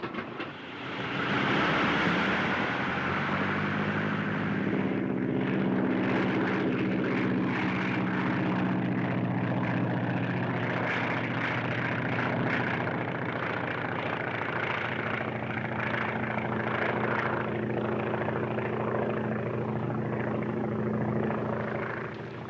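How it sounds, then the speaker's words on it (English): Two propeller airplanes drone overhead, engines swelling in quickly then holding a loud, steady rumbling hum with shifting pitch for the whole stretch, no voices over it. "Here comes two planes."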